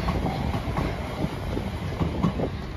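A train passes close by near Brighton Beach in Australia, giving a steady rumbling roar with a faint rhythmic clatter of wheels on rails throughout, with no voices.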